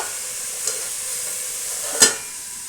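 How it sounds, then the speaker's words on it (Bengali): Chicken mince fries in a pan with cumin, chili, chicken curry masala, salt and turmeric, giving a steady close sizzle with a faint stir and one sharper scrape near the end, with no talking. "জিরে গুঁড়ো, লঙ্কা গুঁড়ো, চিকেন কারি মশলা, লবণ আর হলুদ দিয়ে ভালোভাবে ভাজতে হবে"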